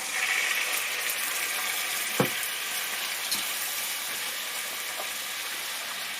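Char siu sauce with a little added water stirred in a pan, giving a steady close sizzle and bubbling hiss throughout with one or two brief utensil clinks.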